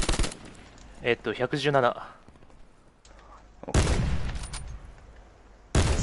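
Gunfire in Call of Duty Black Ops 4 Blackout, several sharp loud shots and short bursts with gaps between them, mixed with someone speaking in the middle.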